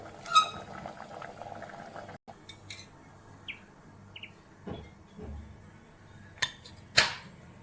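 Pumpkin dal kuzhambu, a Tamil lentil and pumpkin stew, bubbling in a pot: a steady low simmer with scattered soft pops and bubble bursts, fairly close and moderate, with no voices.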